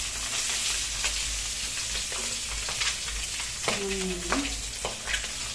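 Potatoes for an egg and potato malai curry sizzle steadily in hot oil in a pan, a close, continuous frying hiss with occasional scrapes of stirring.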